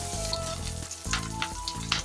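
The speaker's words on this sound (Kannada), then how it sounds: "ಸಣ್ಣ ಸಣ್ಣಕ್ಕೆ ಈರುಳ್ಳಿ ಕಟ್ ಮಾಡ್ಕೊಂಡು ಹಾಕೊಂಡಿದ್ದೀನಿ. ಇದನ್ನು ಚೆನ್ನಾಗಿ ಬ್ರೌನ್ ಕಲರ್ ಬರೋವರೆಗೂ ಫ್ರೈ ಮಾಡ್ಕೋಬೇಕು." Finely chopped onions fry in a pan with green chillies, a steady close sizzle with occasional stirring scrapes, short and without talk.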